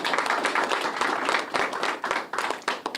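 An audience at an election results gathering in New Orleans breaks into dense, steady applause for a race winner, many hands clapping close and loud for a few seconds with faint talk mixed in.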